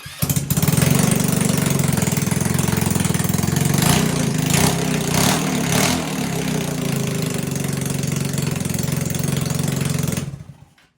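A GY6 scooter engine fitted to a go-kart runs loud and steady close by, a rough idling putter with a few revving bursts, then cuts off abruptly near the end.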